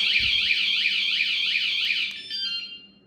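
An Amazon aftermarket motorcycle alarm on a 2021 Yamaha Tracer 9 GT sounds a loud, close, repeating electronic warble for about two seconds, then cuts off into a short fading tail.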